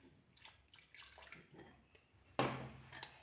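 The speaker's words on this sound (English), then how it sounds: "Then half of it I'll mix with water, about half a glass." Roughly half a glass of water splashes into a bowl of flour for gluten-free chapatis. Faint clinks and shuffling come first, then a sudden close pour gushes and trails off over the last second.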